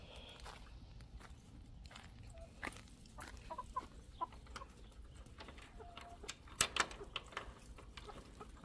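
Soft, scattered hen clucks close by in a desert garden over a low outdoor rumble, with a few footsteps and rustles and one sharper call near the end.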